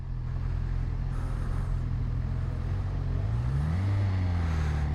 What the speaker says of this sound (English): CB1000R Neo Sports Cafe, which is Honda's newest CB.